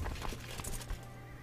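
Horse whinny in the strategy video game Crusader Kings 2, a brief, fairly clear neigh with faint hoof clip-clop under steady low game background, no talking.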